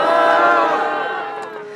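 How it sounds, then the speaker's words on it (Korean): Crowd noise at an outdoor protest rally against a THAAD missile base site, a dense sustained wash of many people that swells loud then slowly fades over a couple of seconds, with no clear individual voices. "크게 힘찬 우리 격려와 연대의 박수 부탁드리겠습니다."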